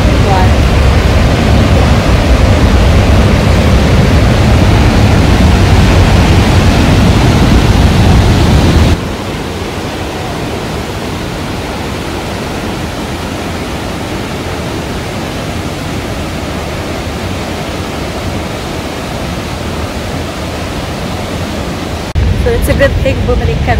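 Waterfall at the first bridge in Maligne Canyon, Jasper National Park: a loud, steady broadband roar of rushing water that drops to a softer level partway through and then continues.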